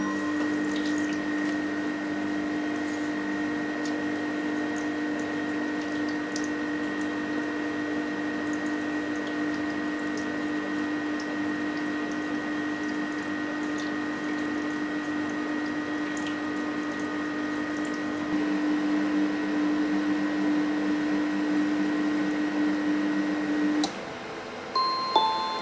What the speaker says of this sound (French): le robot va chauffer à 37 degrés pendant 3 minutes à vitesse 1 et rotation à droite